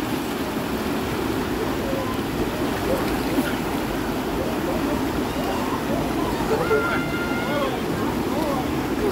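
A rushing mountain river roars in a steady, dense broadband wash, loud and close. Faint voices and splashing sit underneath as someone bathes in it.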